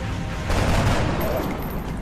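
Sustained gunfire in the XCOM video game, a dense rolling fusillade of shots that swells slightly midway and stays loud throughout the two seconds.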